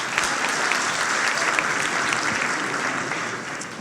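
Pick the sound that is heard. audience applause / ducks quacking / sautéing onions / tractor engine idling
audience applause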